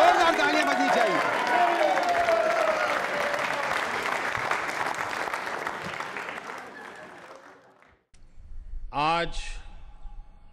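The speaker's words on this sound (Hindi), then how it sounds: "तालियां जोरों से बजाइए, जोरदार तालियां बजनी चाहिए।" Loud, dense audience applause at a Yoga Day quiz show, sustained for about seven seconds before fading out, then a brief burst of voice or music afterward.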